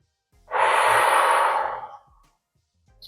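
A single long, breathy exhale during a yoga cat-cow stretch is heard close up, rising quickly, holding steady for over a second and then fading out, with no talk over it.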